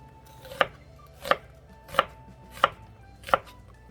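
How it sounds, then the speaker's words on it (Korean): Five evenly spaced, crisp knife chops as an onion is sliced on a cutting board for young napa cabbage kimchi, close and clear with no talking. "양파 썰어서 준비하겠습니다"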